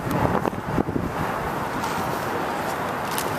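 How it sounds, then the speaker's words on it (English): Strong wind buffets the microphone in a steady roar, with heavier gusts at the start and a constant rushing noise throughout. "That's windy as shit."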